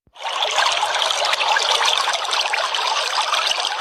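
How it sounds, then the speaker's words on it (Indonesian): Steady, close trickling of running water, a continuous bright splashing flow that fills the whole stretch without pause. "suara air mengalir,"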